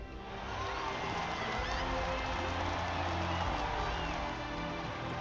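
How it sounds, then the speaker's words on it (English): A crowd cheering in a Final Fantasy XIV cutscene, a steady, dense roar of many voices shouting and celebrating that holds at an even level throughout. "crowd is amped"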